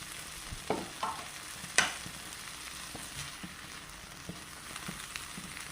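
Long beans frying in coconut oil in a pan, a soft continuous sizzle with occasional stirring scrapes and clinks, close and quiet, no talking.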